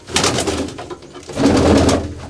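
Pigeons coo in a loft among fancy breeds kept for sale, soft throaty rolling calls repeating in overlapping bursts, close and fairly loud, with no talking.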